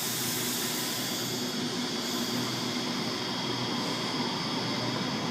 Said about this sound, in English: Oh, the Waratah's about to depart.